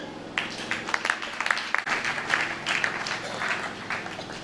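A church congregation at a Sunday service breaks into applause, a dense patter of many hands clapping steadily for several seconds, with a few murmured voices mixed in.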